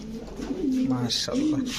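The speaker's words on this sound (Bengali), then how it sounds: "খুলনার ঐতিহ্যবাহী গলায় লাল কবুতর আপনারা সবাই জানেন যে কবুতরগুলো সকাল সন্ধ্যা উড়ে" Red-necked and Rampuri pigeons coo in a loft, with a few soft, rolling coos close by over a low background hum.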